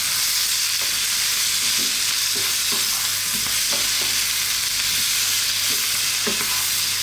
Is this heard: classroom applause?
no